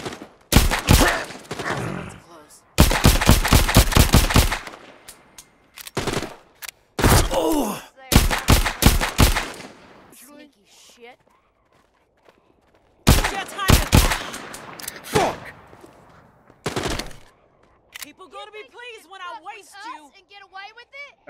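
Gunfire from The Walking Dead: Saints & Sinners, a VR zombie game: loud bursts of rapid shots in several volleys, some sharp single cracks, separated by quieter gaps with breathy groans.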